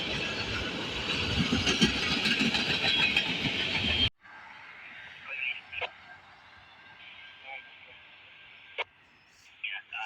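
A Norfolk Southern freight train in central or northern Ohio rumbles loudly past for several seconds, then cuts to a quieter scene with distant rail sounds, scattered clicks and a voice speaking.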